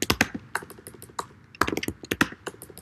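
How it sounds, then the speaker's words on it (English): Quick, crisp keystrokes on a computer keyboard clatter close by in irregular bursts of typing with brief pauses, loud and alone without any talking. "Don't mind my typing."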